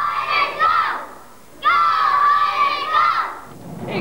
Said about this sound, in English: Classroom after classroom, banners and screaming kids.